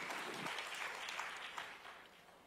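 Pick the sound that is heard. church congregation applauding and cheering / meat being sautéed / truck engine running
church congregation applauding and cheering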